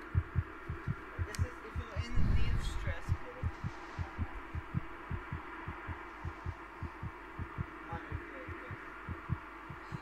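Steady rhythmic heartbeat thumps from the horror video game Among the Sleep, a regular pulse repeating throughout under a low ambient hum, with a brief louder rumble early on.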